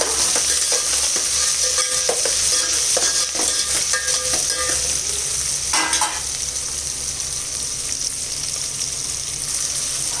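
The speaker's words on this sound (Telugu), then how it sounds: "నూనె వేడయ్యాక జీలకర్ర ఆవాలు ఎండుమిర్చి వేసేసి దాంట్లో పచ్చిమిర్చి ఉల్లిపాయలు కరివేపాకు ఇవన్నీ వేయాలి" Cumin, mustard seeds, dried red chillies, green chillies, onions and curry leaves fry in hot oil for a pigeon pea and jackfruit seed curry, a loud dense sizzle with quick popping crackles early on, then a steadier hiss, all close up.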